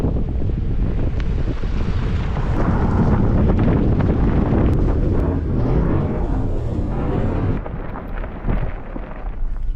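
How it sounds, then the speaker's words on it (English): Wind from a massive storm at a Titan 1 nuclear bunker site, roaring and buffeting hard against the microphone in continuous loud gusts, easing slightly near the end. "we had a massive storm come in"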